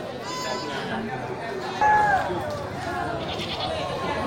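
Goats bleating on a goat truck, a short wavering bleat rising briefly out of a busy street scene with people talking throughout.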